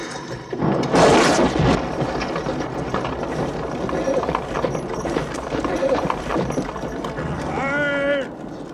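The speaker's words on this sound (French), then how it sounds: "On a simplement le cliquetis des sabots, les chevaux qui respirent, quoi." Hooves clip-clopping steadily from horses drawing an old wooden carriage in a Dracula film scene, with breathing and creaking mechanisms, loud and continuous throughout, a brief voice speaking near the end.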